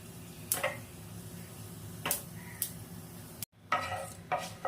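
Panch phoron, a mix of white cumin, black cumin, fennel, fenugreek and black mustard seeds, tempers in hot oil for a vegetable curry. Soft crackling sizzle comes with sharp pops and a stirring scrape, near and moderately quiet, with no talk.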